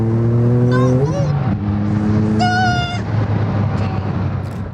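A 700 horsepower all-wheel drive car revs and accelerates close by, its engine note climbing and shifting, while voices exclaim over it.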